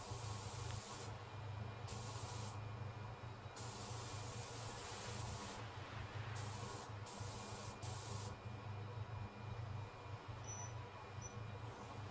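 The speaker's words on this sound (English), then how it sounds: "the nut that I just made and machined for the muzzle brake, giving that guy a spray." Steady aerosol spraying of coating onto a machined metal nut for a rifle muzzle brake hisses in bursts, with brief pauses between sprays, close and continuous over quiet background.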